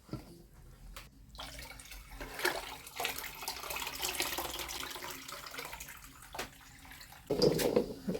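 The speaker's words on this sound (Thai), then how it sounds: "ล้างหลายๆรอบนะครับ ให้มัน สะอาดจังหน่อยนะครับ" Homegrown pumpkin is rinsed repeatedly in water, with splashing, pouring and sloshing that rise and fall in bursts, including a louder splash near the end, moderately close at low overall volume.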